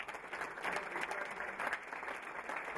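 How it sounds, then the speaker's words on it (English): Steady applause from an awards ceremony crowd, a dense wash of clapping that stays even and fairly close for the whole stretch. "Let's give one more round of applause."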